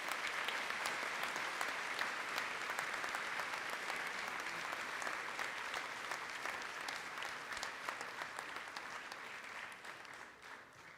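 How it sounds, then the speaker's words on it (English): A school assembly audience applauds students honoured as high achievers, sustained clapping from a large crowd heard at moderate distance, even and continuous before easing slightly at the end. "Can we please have a round of applause for these students?"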